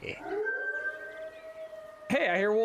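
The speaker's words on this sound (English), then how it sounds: "I hear wolves." Wolves in a hunting video game let out a long, steady, moderately distant howl, followed by a sudden louder burst of overlapping howls near the end.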